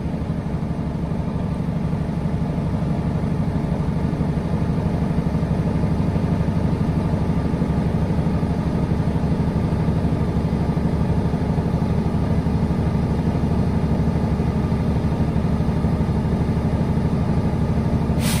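A truck's diesel engine runs at a steady, fast idle to build air brake pressure during a CDL air brake test. The engine rumbles loud and continuous for the whole stretch, with no talk.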